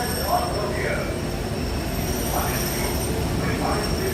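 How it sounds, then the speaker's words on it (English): The Disneyland monorail running as heard from aboard: a steady, continuous rumble with a faint high whine, holding an even level throughout with no breaks. "aboard Monorail Orange"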